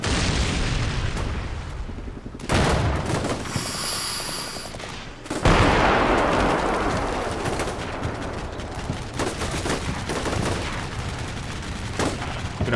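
Gunfire in the video game Combat Mission: Black Sea, a modern Russia–Ukraine battle: loud, sustained volleys of shots and booming bursts roll continuously, with heavier blasts near the middle and a dense, crackling firefight throughout.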